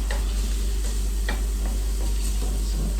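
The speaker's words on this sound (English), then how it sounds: "So my pot was preheating." Garlic sautes in a preheated pot for ackee and choch, a quiet sizzle with occasional light spoon taps over a strong steady low hum from the kitchen.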